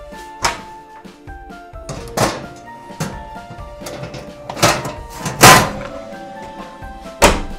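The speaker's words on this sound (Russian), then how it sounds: "И в таком вот виде отправлю в духовку." Pork ribs in a baking dish going into a home oven, with a series of hollow thunks and clattering knocks as the oven door and rack are handled, several sharp bumps spread over a few seconds and no talking.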